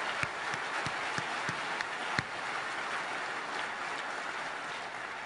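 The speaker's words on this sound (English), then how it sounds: "another round of applause for all the people who brought this together" Conference audience at Google I/O 2012 applauding: a fairly faint, even spread of clapping from a large crowd, heard at a distance with a few sharper nearby claps standing out.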